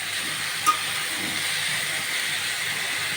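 Bitter gourd (ustha) fries in a pan with green chillies and salt, giving a steady, even sizzle that holds without a break, with one faint tap partway through.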